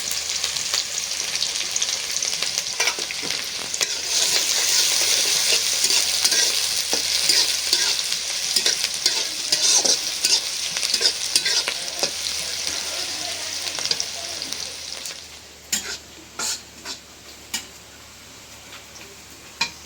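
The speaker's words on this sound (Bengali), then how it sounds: "পেঁয়াজ মরিচ ভালো করে ভেজে নিলাম।" Sliced onion and green chili fry in a pan with a continuous, close sizzle, broken by irregular stirring scrapes and clicks; the frying thins out toward the end.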